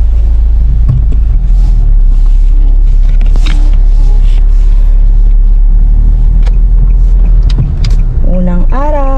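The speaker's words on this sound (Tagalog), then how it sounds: "sarap po mag-drive kapag maganda ang kotse" Loud, steady low engine rumble and road noise from inside a moving car on a morning drive, continuous throughout, with faint knocks and a short whine near the end, and a voice talking briefly.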